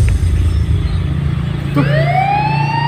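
A police siren starts partway through and sweeps upward in a rising wail over a steady, loud rumble of nearby traffic.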